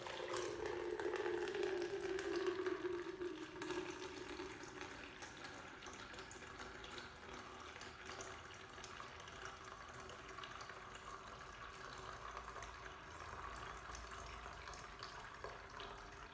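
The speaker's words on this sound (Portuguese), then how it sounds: "devemos disparar o cronômetro ao mesmo tempo que soltamos a água" Water poured steadily from a kettle for brewing coffee, a continuous close stream that is strongest in the first few seconds and then settles into a softer, even trickle, with no talking.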